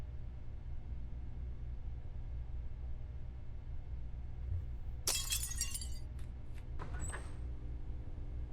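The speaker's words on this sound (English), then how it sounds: "don't know what glass keeps shattering." Glass shatters in a horror video game: a loud sudden burst of breaking glass with scattered tinkling fragments, followed by a second smaller crash with lingering shards over a steady low hum.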